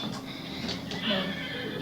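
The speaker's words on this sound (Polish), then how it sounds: "O, koniki." Horses whinny in the video game Minecraft, a couple of short, high neighs standing out against a soft game background with faint hoof-like clip-clop, no speech over them.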